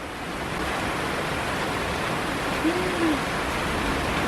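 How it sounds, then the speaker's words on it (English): Pouring rain falls outdoors at a wilderness survival campsite as a dense, even hiss that holds steady throughout, with a faint low tonal call briefly showing near the end. "As soon as I started eating my burrito, it started pouring rain."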